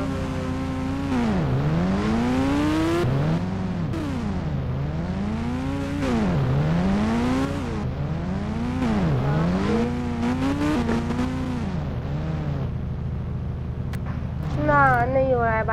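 Motorbike engine in the Indian Bike Driving 3D video game, revving up and down in repeated rising and falling sweeps, loud and close, with a brief sharper rev near the end.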